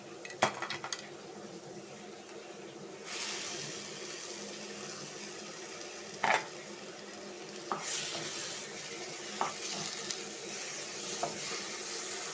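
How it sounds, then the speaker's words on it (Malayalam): Blended tomato juice pours into a hot pan of frying food, setting off a loud, broad sizzle that surges twice, with metal stirring clanks and scrapes rising above the steady hiss. "നമുക്ക് ഇനി തക്കാളി ജ്യൂസ് അടിച്ചത് ഒഴിച്ചു കൊടുക്കാം"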